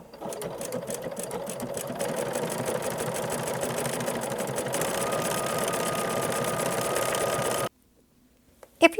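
A sewing machine stitches fabric for a scrappy coffee mat in a steady, close, fast mechanical run, then stops abruptly and leaves near silence followed by a couple of small clicks.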